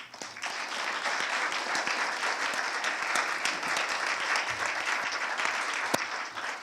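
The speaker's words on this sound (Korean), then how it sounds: "최강 부원장님께 큰 박수 부탁드립니다" Steady audience applause fills an indoor auditorium at a policy research institute's anniversary event, a dense even wash of many hands clapping for the full length, fairly loud and without speech.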